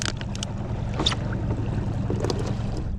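Another boat passing out on the water, a continuous motor-and-water wash mixed with gusty wind buffeting the microphone, fairly loud throughout the short stretch.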